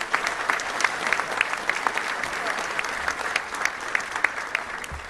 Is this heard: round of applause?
yes